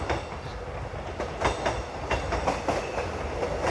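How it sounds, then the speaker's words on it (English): A train rolls past on the railway line nearby, a loud steady rumble with rhythmic clickety-clack from the wheels over the rail joints, continuous throughout. "Notice what's going on behind me as we hear the train come past."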